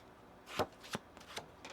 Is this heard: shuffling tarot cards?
yes